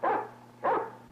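A dog on a 1930s Western ranch gives two sharp barks, close and loud, spaced about half a second apart with quiet between them.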